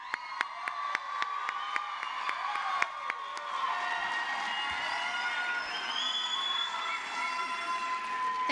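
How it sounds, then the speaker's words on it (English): Applause and cheering for adult basic high school equivalency graduates at a 2024 graduation ceremony: a burst of sharp claps gives way to a steady crowd roar with whoops and raised voices. "let's give them one more round of applause"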